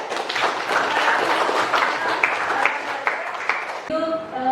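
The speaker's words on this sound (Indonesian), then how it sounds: "Untuk hari ini kita beri aplaus dulu untuk diri sendiri." A class of tenth-grade geography students applauds in a classroom, a steady wash of many hands clapping that fades out near the end, with a voice talking over it.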